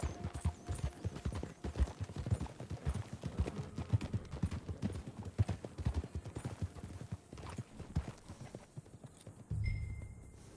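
Horse hooves clip-clopping in Red Dead Redemption 2, an uneven, fairly close trotting rhythm of repeated thuds that runs throughout under faint game ambience, ending with a brief mechanical rattle.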